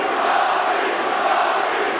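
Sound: fight crowd cheering for Robbie Lawler

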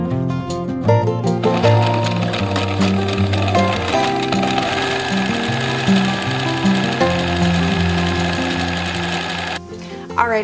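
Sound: sewing machine stitching fabric edges

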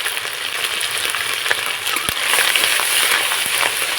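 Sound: frying spice paste of cumin and chili while stirring

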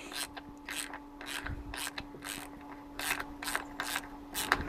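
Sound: ratchet wrench removing Mercedes M272 intake manifold bolts

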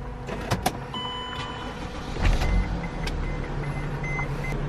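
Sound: car engine starting in a camper van

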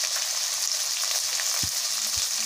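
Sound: vegetables frying in pan for bisibelebath

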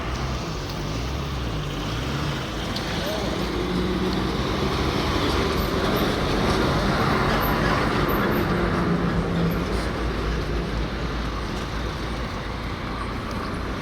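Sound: Highline buses driving past on the road

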